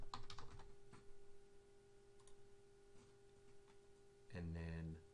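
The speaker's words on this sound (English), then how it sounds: "type in Doobie Bassino" Keys clatter on a computer keyboard as a name is typed, a short run of soft clicks over a steady electrical hum, ending in a brief louder burst.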